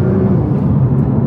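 A Nissan GT-R R35 pulls hard while accelerating, heard from inside the cabin as a loud, steady low engine rumble and drone lasting a moment, with no talking.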